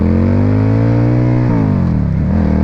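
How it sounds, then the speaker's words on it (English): A 2000 Suzuki Marauder VZ800 motorcycle engine revs loud and close. A steady, strong drone rises and then falls, with no talking. "My new bike. It is a 2000 Suzuki."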